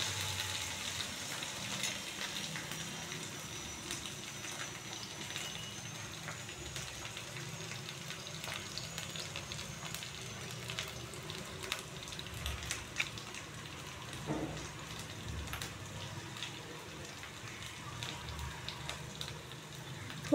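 Chili and garlic frying in oil in a pan, a soft steady sizzle and crackle running throughout, fairly quiet, with occasional faint clicks of a spoon.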